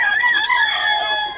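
A Sure Brown Red stag rooster crows once at a gamefowl market in Bocaue, a loud, close, drawn-out call that wavers slightly in pitch across its full length, with no talk over it.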